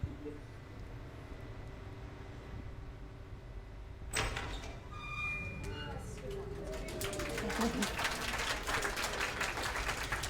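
A door opens in the Mysterium Starry Expanse game: a sudden onset of creaking, sliding and mechanical scraping that swells and stays loud over a soft ambient bed of faint bird-like cooing.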